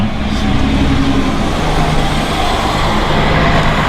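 Several cars run close by at a car show, making a loud, steady engine drone and rumble that fills the whole stretch without letting up.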